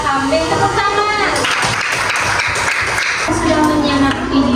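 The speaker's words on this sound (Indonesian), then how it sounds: "Tepuk tangan." Children in a primary school classroom clap their hands in a burst of rapid, overlapping claps lasting a couple of seconds, close by, with a teacher's voice and chatter around it.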